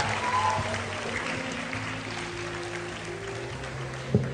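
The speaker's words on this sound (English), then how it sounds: "Please give her a big round of applause." A school Model UN audience applauds steadily for the Secretary General, a dense sustained wash of clapping with a faint voice and a brief thump near the end.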